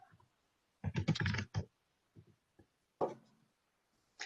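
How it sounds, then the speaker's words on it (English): Someone types on a computer keyboard during a voice chat, with short bursts of clustered keystrokes separated by pauses, fairly close but quiet. "I can hear you typing"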